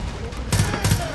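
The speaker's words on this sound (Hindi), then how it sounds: "ओ भाई सामने से स्नाइप हो रहा है," Sniper rifle shots fired from the front in a shooter video game, a couple of sharp loud cracks in quick succession over steady background game noise.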